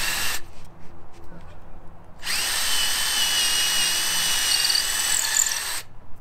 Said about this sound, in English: I just like to drill a hole right kind of where you want to put it.